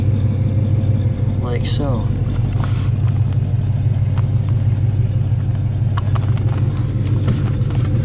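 A 1955 Studebaker Commander Regal four-door sedan's engine idles with a steady, deep low rumble throughout, heard close up beneath someone talking.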